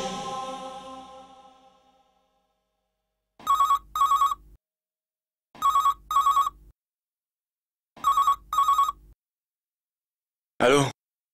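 An old-style landline telephone rings in a French-dubbed TV drama, three loud double-burst bell rings separated by silence and a final short ring, after a fading sigh at the start.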